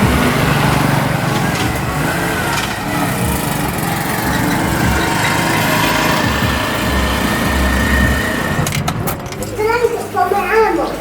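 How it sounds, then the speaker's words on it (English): A boat engine drones steadily at a moderate distance as it passes on an island in the Philippines, with someone talking over it and a brief burst of other voices near the end. "You see that boat coming by over there?"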